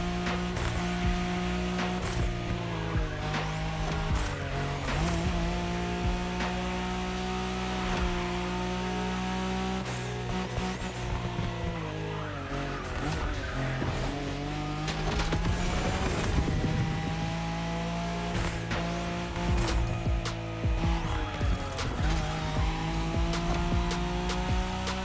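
Nissan Skyline racing in The Crew Motorfest, with a steady loud engine drone and rising, falling gear-shift pitch sweeps running continuously throughout, plus occasional tire squeal and impact clatter, with no talking.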